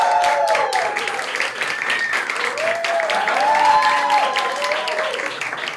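Live comedy-show audience gives sustained, loud applause with scattered whoops and cheers as a Brazilian event producer is welcomed onstage; the clapping stays dense and steady throughout, with some excited high voices rising over it.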